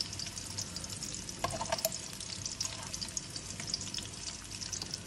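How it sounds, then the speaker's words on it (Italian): Shallot and parsley stems sauté in a pan with a soft, continuous sizzle. A few brief stirring clicks and scrapes come through near the middle, and the sound stays fairly quiet from start to finish. "aggiungiamo lo scalogno, gambetti di prezzemolo pure qua e facciamo rosolare un po'"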